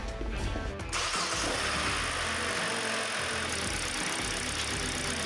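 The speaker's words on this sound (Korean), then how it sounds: "엔진 소리가 상당히 조용해졌습니다." A Kia K5 car engine, newly rebuilt, turns over and settles into a steady, fairly quiet idle, a close continuous hum with no talking.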